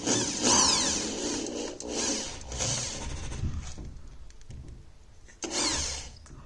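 A drill bores a hole into wood in a garage under renovation, with bursts of whirring and grinding that rise and fall, short pauses between passes, and a final strong burst near the end.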